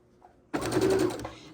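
A sewing machine stitches rows of 13.5 by 10.5 inch quilt blocks together from panels and scraps. After a quiet moment it starts with one short burst of close, steady whirring and stitching, then fades.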